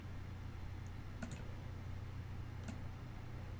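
Two sharp, isolated mouse clicks, about a second and a half apart, sound faintly over a steady low hum while options are selected in a Schoology quiz.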